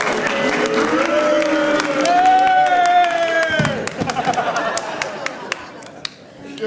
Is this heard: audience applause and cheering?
yes